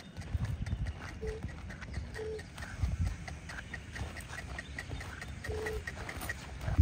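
A horse's hooves clip-clop on the ground in an uneven rhythm as the horse is pushed backward, close by, with a few faint background voices.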